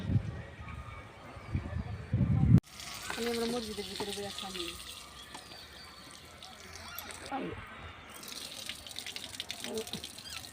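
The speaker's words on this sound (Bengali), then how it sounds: "এখানে পানির ব্যবস্থা আছে উজু করে প্লাস খাওয়া যায় পানি" Tap water running for ablution at an outdoor spot at the Shat Gombuj mosque grounds in Bagerhat, a steady splashing gush under people talking nearby.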